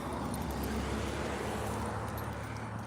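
Road traffic passing by outdoors during a walk, a steady broadband rumble of vehicles with low engine drone, continuous and moderately close throughout.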